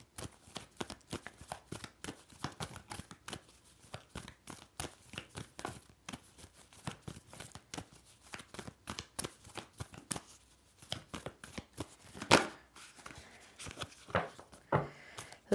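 Tarot cards shuffled by hand on a table, a long run of quick soft riffles and slaps in close, fairly quiet bursts, with no voices.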